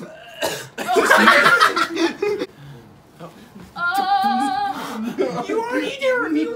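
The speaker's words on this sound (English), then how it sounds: "coughing in his arm" A person coughs into his arm, with a burst of rough coughs early on followed by a higher, voiced sound, while other people talk and laugh nearby.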